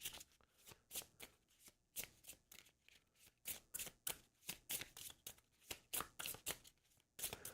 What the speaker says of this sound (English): So let's shuffle their deck up a little bit.